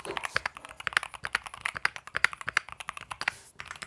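Fast typing on a Keychron Q1 HE mechanical keyboard with smooth keys and a replaced stabilizer on the larger keys, giving a steady stream of close, crisp clacks with sharper hits mixed in.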